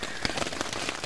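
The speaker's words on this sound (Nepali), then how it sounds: "बाहिर पानी परिरहेको" Rain patters on a tent at a campsite, a quick spray of soft taps and drops, close and moderately faint over a brief moment.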